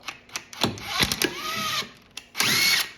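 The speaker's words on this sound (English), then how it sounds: "we'll get this bolt in and tighten it until the rotor comes off" A power tool whirs in short bursts, turning a bolt to push the rear brake rotor off a 2010-2015 Lexus RX350 or RX450h, with metallic clicks between bursts.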